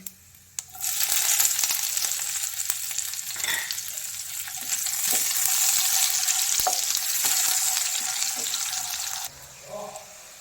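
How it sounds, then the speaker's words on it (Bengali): Chopped garlic hits hot oil in a pan while making palak paneer, bursting into a loud, steady sizzle that holds for several seconds before cutting off abruptly, with a few utensil clinks over it. "আচ্ছা রসুন কুচিটা এবারে দিচ্ছি"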